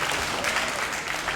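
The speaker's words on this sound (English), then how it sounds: "round of applause" Audience applause at a horror convention Q&A, a short burst of dense, steady clapping from a crowded room.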